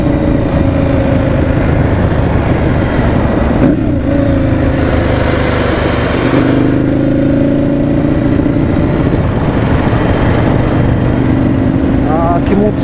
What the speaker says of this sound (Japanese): アクセルちょっと開けてるだけでぐーっと加速するんですよ